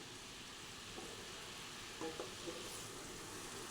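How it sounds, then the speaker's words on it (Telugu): Coconut laddu mixture cooking in a pan while a ladle stirs it, a steady sizzle with a few faint scraping clinks against the pan, no talk. "అడుగంటకుండా మనం గరిటెతో తిప్పుతూ ఉండాలి."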